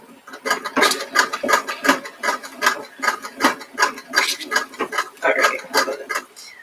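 A sewing machine stitching fabric runs close by in quick, even mechanical ticks and rattles with brief pauses, with no talk over it.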